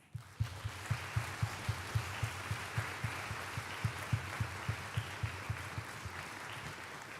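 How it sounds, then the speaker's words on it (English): Concert audience applauding at a wind symphony senior night, steady clapping with a few louder claps standing out at regular intervals, sustained and moderately near throughout. "they also deserve a big round of applause"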